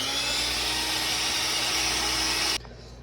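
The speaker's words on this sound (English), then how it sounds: "you're going to whisk this together for 2 minutes" A handheld electric mixer whisking eggs and sugar together, with a steady loud high whir that runs continuously and then cuts off abruptly near the end.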